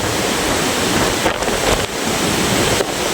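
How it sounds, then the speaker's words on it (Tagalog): Typhoon Uwan's strong wind and waves pound the shore at low tide, a dense, loud, unbroken roar of gusts and surf with brief dips. "Hangin na bagyo."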